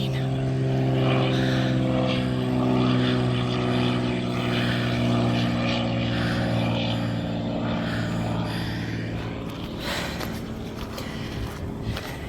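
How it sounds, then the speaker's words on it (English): A propeller charter plane passes overhead near an airport by the water, its engine drone loud and steady before slowly fading, with brief talk faintly underneath. "we're near an airport. So there's charter flights out of here all day long."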